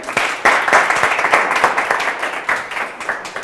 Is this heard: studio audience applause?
yes